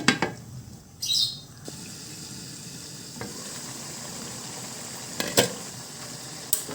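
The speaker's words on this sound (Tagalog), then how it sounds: "Simmer natin ulit yan hanggang sa ma-reduce yung kanyang sauce" Chicken with saba banana and carrots simmers in sauce, a soft, quiet bubbling hiss with a few brief clinks and a short louder rustle near the start, no talking.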